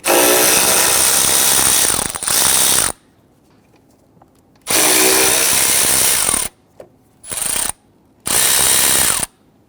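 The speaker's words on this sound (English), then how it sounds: "We want to loosen and remove the two bolts holding the tank." Close, loud ratcheting of a 10mm socket wrench loosening the bolts on the coolant reservoir of a 2011-2023 Dodge Charger 3.6L V6, in four separate bursts of varying length with quiet gaps between them.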